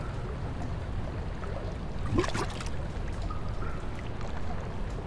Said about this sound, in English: Great gurgle noise.